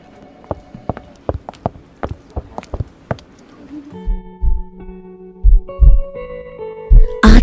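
A heartbeat thumps in a steady, evenly spaced rhythm of loud, close, deep pulses, then gives way to lower throbbing hums and heavier thuds.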